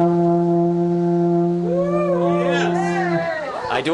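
A beginner blows an alphorn on a news set: long, steady low tones held for several seconds, then wavering, bending pitches as the note breaks and slides, loud and close.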